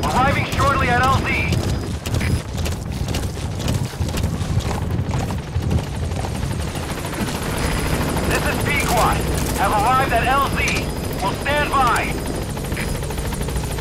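A support helicopter in Metal Gear Solid V comes in with a loud, steady rotor thrum, while someone talks over it and bursts of chirping squeal rise above it now and then.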